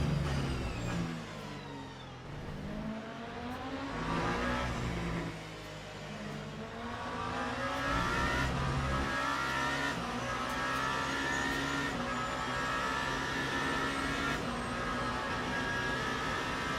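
A race car in a racing video game at Imola, engine revving hard through the gears with rising and falling pitch sweeps, loud and continuous, no voices.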